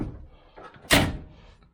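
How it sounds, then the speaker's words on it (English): The door of a Range Rover under restoration shuts with a single solid, loud slam near the microphone after some faint handling noise. "when I close the door"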